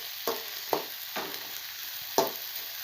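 A spoon scrapes and stirs grated coconut and cumin in a pan with a few distinct strokes over a faint sizzle, up close and unaccompanied by talk.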